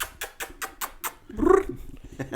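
A cat meows in a short burst of tonal calls near the end, following a series of soft rhythmic thumps and rustles in a room.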